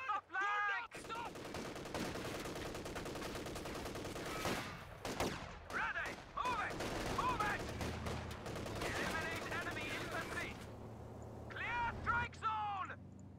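Gunfire from infantry in the Company of Heroes 2 real-time strategy game: rattling bursts and scattered shots, mixed with in-game unit voice callouts and battle noise, sustained throughout.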